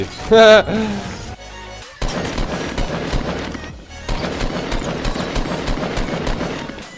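Rapid bursts of laser weapon fire in a video game, harsh and repetitive with short gaps between volleys, loud and close, with an electronic tone at the start and talking over it.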